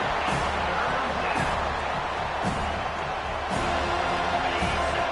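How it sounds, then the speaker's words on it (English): A stadium crowd at a college football game against Georgia Tech roars continuously and loudly, a dense wall of cheering with thumps and shouts underneath. "This crowd, full throat, splitting the eardrums and letting them know it's going to be a long day."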